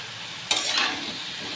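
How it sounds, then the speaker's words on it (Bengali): Mixed vegetables hitting hot oil in a large kadai wok, a sudden loud sizzle bursting in after a quiet start and settling into a steady crackling fry with stirring, close by. "এবার কেটে রাখা এই পাঁচমিশালি সবজিটা দিয়ে দেবো তেলের উপর সবজিগুলো ভেজে নেবো"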